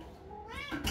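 A house cat gives one rising, drawn-out meow that ends in a brief sharper cry, close by and clear with no talking.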